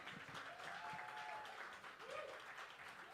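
Sustained audience clapping at a Berkeley poetry slam, an even, continuous patter heard from a distance with faint voices rising above it.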